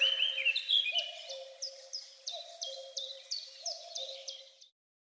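Small birds in a marble river gorge in Hualien, Taiwan, giving repeated high chirps in a steady rhythm, fairly faint against a quiet background.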